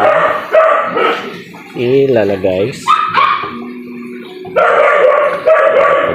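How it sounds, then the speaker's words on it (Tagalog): A dog barks and yips in short bursts close by while a person talks over and between the barks. "Ang ingay pa ng aso."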